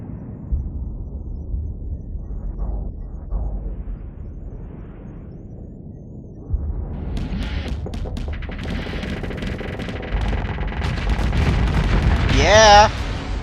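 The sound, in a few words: spaceship weapons fire in Starsector video game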